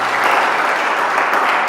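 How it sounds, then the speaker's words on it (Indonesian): Loud, continuous applause from a church congregation fills the space, a dense wash of clapping holding steady throughout with no pauses. "Tepuk tangan yang meriah bagi Tuhan kita."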